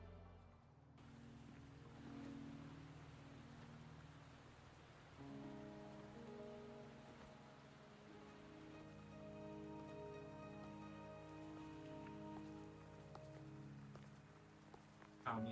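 Steady rain falls in the video game Wuthering Waves, a soft, continuous hiss of drops under sustained tonal music, with no one speaking over it.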